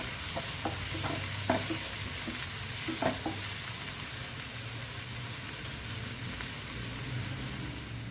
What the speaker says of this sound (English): and the onions. Saute nicely until it becomes golden.